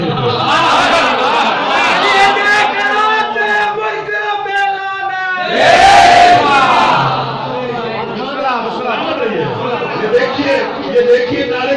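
A crowd at a religious gathering roars a slogan in unison, loud massed shouts rising into a big surge midway before settling into scattered cheering, with a voice over the top.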